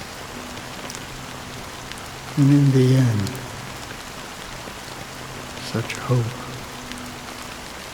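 Rain falls steadily in Honkai: Star Rail, a constant patter on surfaces with scattered drop sounds, heard under a voice that speaks briefly partway through.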